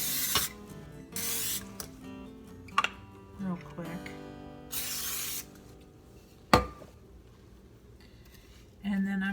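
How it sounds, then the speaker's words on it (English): Several short hissing bursts of cooking spray on the sides of a baking dish, close by, separated by pauses, with a person speaking briefly in between and light clatter of the dish. "I'm just going to spray the sides"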